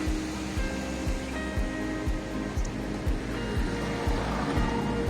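River water rushes through the open gate of the Teesta barrage at Gajoldoba in a continuous broad roar. A steady, rhythmic low thumping runs underneath it throughout.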